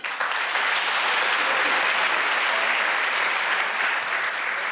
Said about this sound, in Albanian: Një duartrokitje të fortë për Enedën